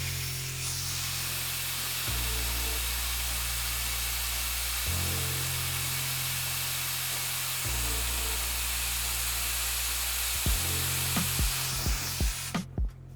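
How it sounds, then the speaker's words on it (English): A hair blow dryer roars steadily while hair is styled, its loud whooshing drone dipping and rising in pitch as the speed or angle shifts, before a few clicks and handling knocks near the end. "that's just with the primer and the blow dryer"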